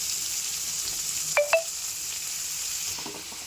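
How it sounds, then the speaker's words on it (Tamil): Tomatoes and green chillies sauté in a pan with a steady, even sizzle that runs throughout, broken by two brief clinks of a utensil near the middle. "தக்காளி நல்லா வதங்கணுங்க."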